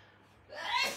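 A single short sneeze bursts out close by after a moment of near silence.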